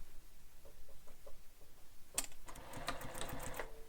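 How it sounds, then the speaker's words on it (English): Home sewing machine stitching the curved lining seam of a bowler bag pocket, with a few faint taps early on and then a loud, steady rapid whirr of stitching in the second half. "We're going to stitch that again using the seam allowance given in the pattern."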